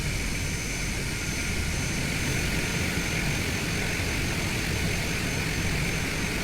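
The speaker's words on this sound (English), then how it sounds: "Get down to the end of the runway and get ready for takeoff back to home base." Cessna 208B Caravan turboprop engine running before takeoff in Microsoft Flight Simulator 2020, a steady, loud, dense engine roar with constant whine and no voices.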